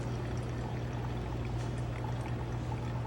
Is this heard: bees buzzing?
no